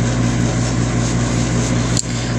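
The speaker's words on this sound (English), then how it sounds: "There you guys can hear the fan right now." An Ice Troll vacuum-style laptop exhaust cooler fan runs at its highest setting, a loud, steady whooshing drone with a low hum, close up, with a brief knock near the end.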